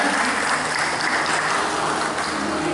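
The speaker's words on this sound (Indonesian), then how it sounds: "Tepuk tangan" A congregation at an Easter Sunday church service claps together, producing a dense, even wash of applause that sounds almost like rain and holds steady for under three seconds.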